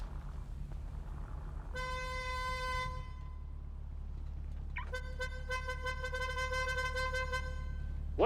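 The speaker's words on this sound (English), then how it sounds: "What you honking at?" Car horn honking in the GTA roleplay game, two sustained blasts, the first about a second long and the second longer, over a steady low engine hum with no talk.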